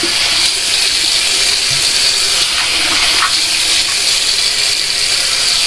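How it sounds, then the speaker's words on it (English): Tap water gushes steadily and loudly into a sink while a face is washed with soap, a constant close hiss of running water with no pauses or voices. "And I'm washing my face with a little soap."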